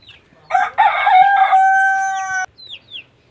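Rooster crowing loudly and close, a long harmonic crow lasting about two seconds, preceded by clucking hens, with a few faint bird chirps afterward on a backyard poultry setup.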